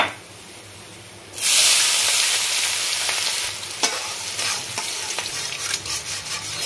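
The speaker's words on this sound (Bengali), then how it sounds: "পেঁয়াজটা একটু গোল্ডেন কালার করে ভাজবো।" Onions hitting hot oil in a pan: a quiet start, then a loud sudden hiss that settles into steady frying with intermittent stirring scrapes, close up and without voices.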